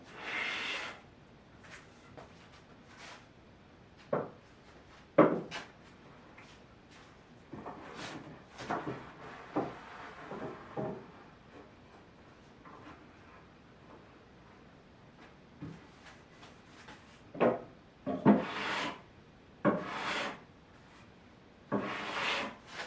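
A hand plane takes light passes over wooden shoe moulding strips cut from 1x6 boards on a table saw, producing short scraping strokes separated by pauses, near and moderately quiet.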